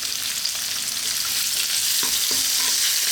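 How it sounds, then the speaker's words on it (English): Chopped onion and a garlic-ginger paste sizzling loudly in a pan over lively heat, with a dense continuous hiss and a few soft stirring scrapes, close up and with no voices. "we're going to throw this around in the pan on a fairly lively heat"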